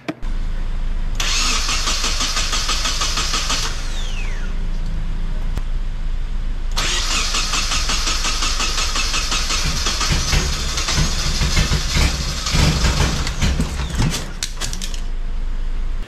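A Nissan 240SX with a dead battery, jump-started from a Corolla, cranks in two long bursts of several seconds each with a short pause between, loud and close, with no catch into idle.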